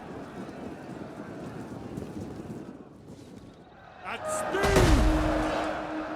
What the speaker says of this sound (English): who is firing the artillery?